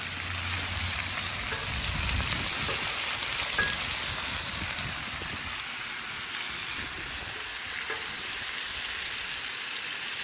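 Bacon-wrapped dove poppers sizzle loudly and steadily in a hot pan as they are flipped over. The dense crackling hiss is close and continuous throughout, with no voices.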